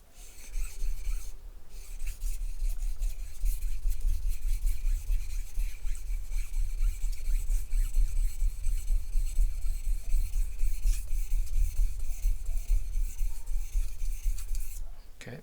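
Steady rasping strokes of a cheap, fairly soft-steel sushi knife being drawn across a sharpening stone, continuous and close, with no talking.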